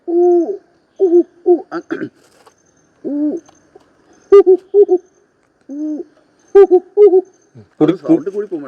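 A human voice imitates an owl's hoot, repeating short hooting calls in bursts with pauses between them, close and clear.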